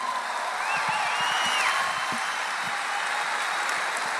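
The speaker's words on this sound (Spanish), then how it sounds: "a quien quiero pedir un fuerte aplauso, para mi esposa Gabriela y mis hijos Rodrigo y Azul." A live comedy-show audience applauds continuously and densely, with a brief rising whistle early on and scattered low thumps underneath.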